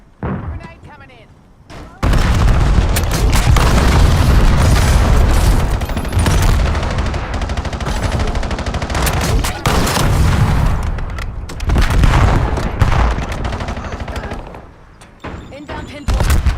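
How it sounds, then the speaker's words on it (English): Grenade explosions and heavy gunfire in the video game Destiny 2, loud dense booms and bursts filling nearly the whole stretch after a quiet opening, with brief dips in intensity. "Grenade coming in."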